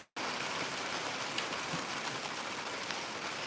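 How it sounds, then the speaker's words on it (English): Steady rain falling outdoors in Mississippi, a dense even hiss of drops that begins abruptly and continues without pause, close and moderately loud, with no voices. "Sounds like it's fixing to rain on us."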